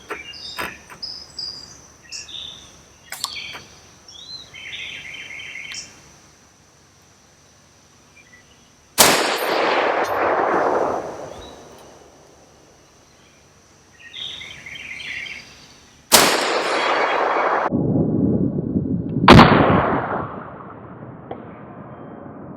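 Rifle shots from a custom Aero Precision .308 precision rifle at an outdoor range, a handful of sharp loud reports spaced several seconds apart, each trailing into a long rumbling echo, with faint insect and bird sounds in the quiet gaps.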